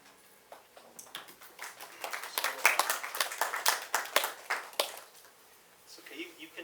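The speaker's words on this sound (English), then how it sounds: "you can hold the applause till the end" A small audience at a poetry reading breaks into scattered applause, with a handful of distinct, close hand claps that build briefly and then thin out.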